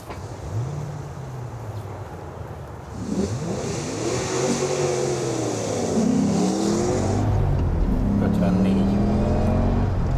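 A Ford, either an F150 XL pickup or a tuned Mustang convertible, accelerates hard on a timed track lap, its engine rising through revving sweeps and gear changes, loud and close, while someone talks over it.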